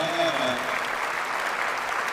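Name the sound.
audience applause for United Way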